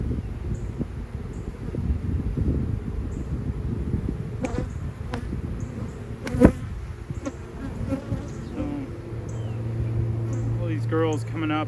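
Honeybees buzz steadily around an open hive during a mid-May inspection, a close, continuous drone with sharp knocks and handling clicks, while someone talks over it.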